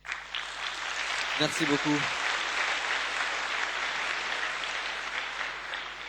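Audience applause at a Euroscola youth session after a student spokesperson finishes. A brief voice speaks near the start, then sustained clapping from a large crowd fills the room for several seconds.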